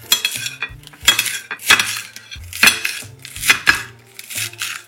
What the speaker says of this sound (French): Ensuite, avec le grand couteau, je viens couper comme ça.